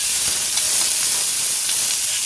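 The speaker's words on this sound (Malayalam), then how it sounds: "കടുകിട്ട് പൊട്ടി അതിനുശേഷം കരിവേപ്പില ഇട്ടു അതിലേക്ക് സവോളയും പച്ചമുളകും കൂടി ഇട്ടു" Steady, loud hiss of mustard seeds, curry leaves, onion and green chilli sizzling in hot oil for a green plantain stir-fry, with faint crackles over the continuous frying.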